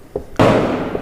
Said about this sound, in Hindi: हमें पटाखों की आवाज़ आने लगी है